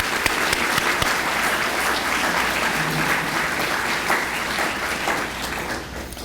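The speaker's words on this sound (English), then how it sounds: "Let's give all of them a round of applause." Sustained applause from a brunch audience at a university scholarship event, steady dense clapping from many hands that continues evenly throughout and eases only slightly near the end.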